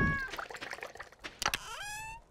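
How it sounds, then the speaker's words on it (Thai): A cat in the farming game Stardew Valley gives two drawn-out meows, one starting and one ending the short clip, with soft game sounds between them. "เสียงแมวร้องครับ"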